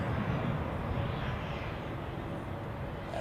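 An airliner lands at Zurich Airport on a gusty crosswind day, a steady broadband jet roar holding at moderate distance throughout with no voices.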